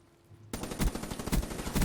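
Call of Duty Black Ops 3 gunfire, a rapid automatic burst of close, loud shots that starts abruptly after a moment of quiet and keeps a fast rhythm.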